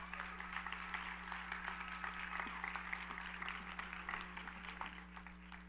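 Audience at the 28th Dusty Awards film and animation festival applauds to welcome host Valerie Smaldone, a dense, sustained clapping lasting several seconds over a steady low hum.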